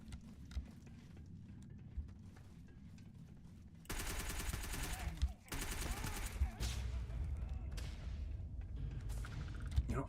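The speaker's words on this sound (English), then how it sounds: "Don't mind me, I'm just shooting with irons." Bursts of iron-sight gunfire in Starfield crackle in rapid fusillades over a quiet cave ambience, with shots starting partway through and continuing in dense runs with brief pauses.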